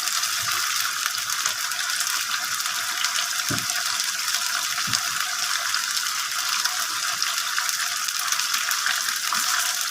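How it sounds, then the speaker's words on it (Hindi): Meat (gosht) frying in about three-quarters of a cup of oil for a chicken and potato curry, a steady broadband sizzle running continuously at even loudness with a couple of faint low knocks. "देखें, ऐसे फ्राई करना है अच्छी तरह से।"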